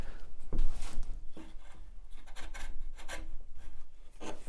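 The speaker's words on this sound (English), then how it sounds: "just running my chisel across without lifting the handle" A wood chisel is drawn across a pallet-wood surface on a Workmate bench, giving a continuous scraping rasp with a few sharper strokes, close and clear with no talk.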